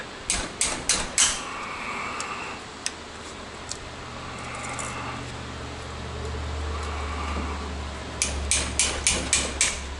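A hammer taps repeatedly to crack apart the engine cases of a 1981 KZ550 motorcycle in a workshop. Short, sharp metallic knocks come in quick runs at the start and the end, with a low steady hum between them.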